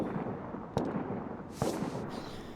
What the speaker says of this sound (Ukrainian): Але пізніше ми почули постріли.